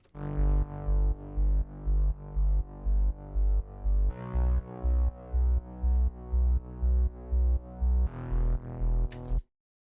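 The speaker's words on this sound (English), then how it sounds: "And I've used Serum for the main bass." A deep, pulsing bassline made with the Serum software synth repeats in steady rhythmic notes, with harmonic-rich tones shifting pitch every few seconds and no voices.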